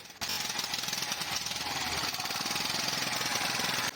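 An auto-rickshaw engine powers a single-blade hydraulic wood splitter, starting abruptly and chugging loudly and steadily with a rapid hammering pulse before cutting off just before the end.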